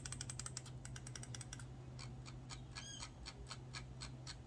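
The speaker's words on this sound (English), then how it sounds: "this is the clicking and scrolling sound of the M187" Quiet, rapid plastic clicks tick in quick succession, followed by a softer run of small clicking ticks from a Logitech M187 mini mouse's buttons and scroll wheel, close up with no talking.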